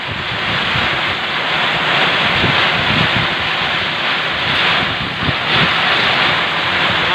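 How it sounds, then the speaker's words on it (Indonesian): Strong stormy wind tears across the open sea during a fishing trip in heavy rain, a loud, constant roar buffeting the microphone over surging waves, with no let-up throughout. "Cuaca buruk, nggak bisa kemana-mana ya. Anginnya ngeri."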